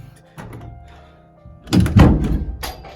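A door is shut with a solid thunk near the two-second mark, a dull low impact with a brief rattle after it, close and fairly loud against a quiet room with faint sounds before.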